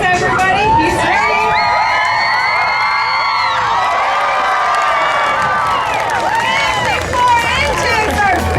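A crowd at a dog performance show cheers and shouts loudly and steadily as Koda the dog attempts a record high jump, with children's voices and whoops rising through the din throughout.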